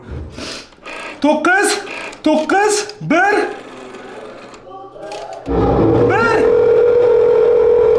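A steady electronic telephone dial tone in a video game starts abruptly and holds loud and unbroken after several bursts of speech and gasping voices.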